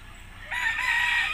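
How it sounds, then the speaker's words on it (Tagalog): A rooster crows once in Calatagan, Batangas, a loud, bright, drawn-out call starting abruptly after a brief quiet moment, close by. "May mga manok."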